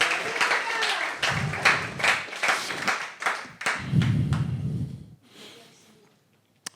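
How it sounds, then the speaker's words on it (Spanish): Church congregation applause during a worship service, several bursts of clapping in uneven waves that fade to quiet near the end, with voices mixed in at moments. "Alguien va a tener que darle un aplauso al Señor."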